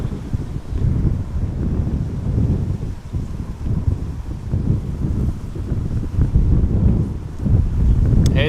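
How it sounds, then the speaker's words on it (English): Strong wind at Amsterdam Schiphol Airport roars steadily into the microphone, a loud, unbroken gusting rumble with buffeting surges throughout and no talk. "So the wind is not slowing down by any means."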